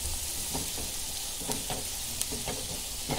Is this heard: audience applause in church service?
no